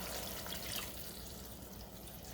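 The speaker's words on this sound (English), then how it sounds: "Looks like I'll need a little bit of more water, so I'm going to add another half cup." Water poured from a cup into a cooking pot, a soft continuous splashing and trickle heard up close and fairly quiet, with a brief brighter splash near the start before settling into a steady flow.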